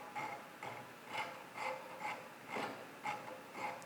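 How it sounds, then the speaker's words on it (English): A hand rasp shapes the edge of a wooden bow riser with a steady rhythm of about eight rough, evenly spaced scraping strokes. The strokes are close and fairly quiet, with no talking. "once you get that initial kind of edge gone, the rasping really goes really fast"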